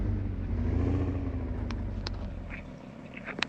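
A motorcycle engine in PUBG drones loudly and close, then fades away, with sharp clicks and game effects near the end.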